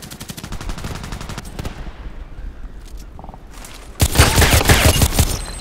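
An H&K 416c rifle in Contract Wars fires in rapid strings of sharp shots. The fire pauses in the middle, then a louder, denser volley follows, loud and close with no talk over it.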